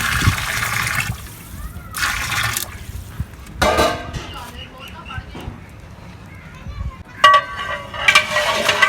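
Water pours into a cooking pot for sweet zarda rice, splashing and trickling in bursts at close range, while a person talks over parts of it.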